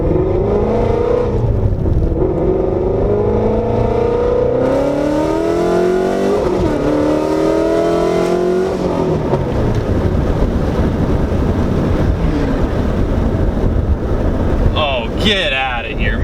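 A 510-whp full-bolt-on Ford Mustang GT350 engine revs hard while driving, rising and falling through loud sustained pulls with wind noise, close and dominant throughout.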